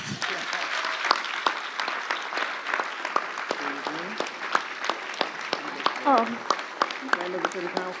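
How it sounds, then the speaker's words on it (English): An audience at a city State of the City address applauds loudly and continuously, dense clapping filling the space, with voices calling out and cheering over it. "Give yourself a round of applause."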